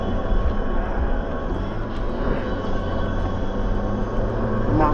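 A diesel Jeep Gladiator climbs a steep rocky stretch of the White Rim Trail, its engine laboring in a steady, loud, continuous drone with a low rumble and no talk over it.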